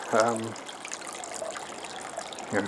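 An aquarium or pond filter is rinsed under a running sink tap, with a steady trickle and splash of water throughout and brief voice fragments at the start and end.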